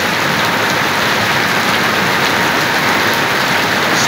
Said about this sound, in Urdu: اسپیڈ سے لگی ہوئی ہے بارش۔